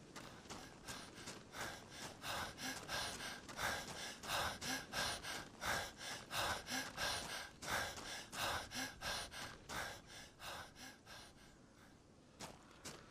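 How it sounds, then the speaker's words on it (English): Sprinting character in the Unreal Engine 5 video game On Your Own pants heavily in fast, rhythmic breaths that continue steadily and then slow slightly toward the end, with no talk. "hopefully you're able to hear that kind of just panting, like from running"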